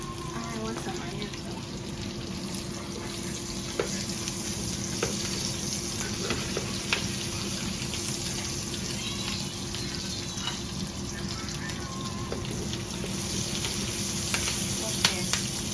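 Onions frying in a pan at home, a steady, moderately quiet sizzle running continuously with small pops and crackles scattered throughout.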